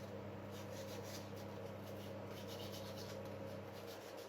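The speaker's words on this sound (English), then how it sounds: "So I'm just going to sand all these down as such." Sandpaper rubbing steadily over polyurethane-coated plastic truck model parts, a continuous close scratchy hiss with faint back-and-forth strokes and no pauses.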